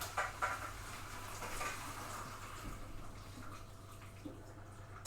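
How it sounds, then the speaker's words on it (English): Water from cooked potatoes poured out of a pan into a colander, a steady faint splashing rush lasting throughout, with small drips and a clatter at the end. "Empty this water out. Drain it into the colander."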